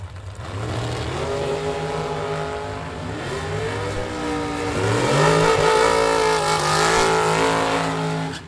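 Bracket drag racing cars roar loudly down the strip at a bracket nationals event, their engines climbing through rapid gear changes and rising to a peak before fading slightly.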